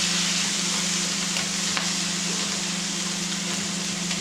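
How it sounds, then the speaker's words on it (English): Tomato sizzling and frying in a garlic sauce in a pan for burgers, a steady broadband hiss of cooking with faint stirring scrapes, close and continuous throughout. "Now this tomato's going in the sauce, so I will try to overcook it."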